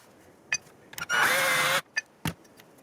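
A homemade surfacing tool grinds into an aluminum brake caliper for an RZ350 motorcycle in one steady burst of about a second, with a few short clicks and knocks before and after.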